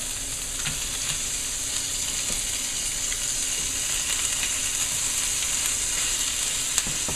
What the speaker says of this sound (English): I'm going to lay the lobster tails with the open exposed meat down in the pan